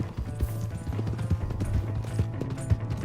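Horse hooves clip-clopping steadily in the video game Red Dead Redemption 2, close and rhythmic over a low constant background hum, with no speech.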